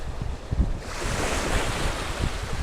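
Strong wind roars and buffets the microphone steadily, with a rushing, surf-like wash underneath and no voices.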